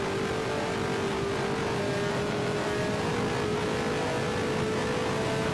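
Race car engines in an Indianapolis 500 racing video game, a continuous loud droning whine holding a steady pitch throughout, with no talk.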